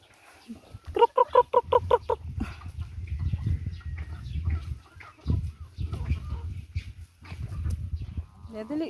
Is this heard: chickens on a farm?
yes